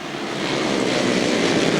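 Grasstrack racing motorcycles at a 1991 meeting roar together in a loud, dense engine blare as they leave the start, a steady unbroken wall of revving with no voices.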